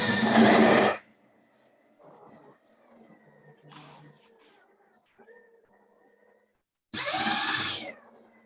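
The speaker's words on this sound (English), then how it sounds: "you're gonna drill your hole right in the center. I'm gonna use this hole saw." Hole saw boring into a piece of wood in a prop station workshop, two loud bursts of drilling at the start and end separated by quieter handling and tool noises.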